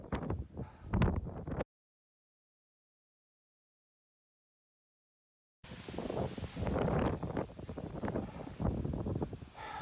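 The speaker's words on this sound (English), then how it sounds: "So much wind that if any of the snow gets whipped up, it actually stings my face." Strong cold wind buffets the microphone on a snowy Rockies mountain hike near Gorge Creek, loud rushing gusts in two bursts separated by a long stretch of silence.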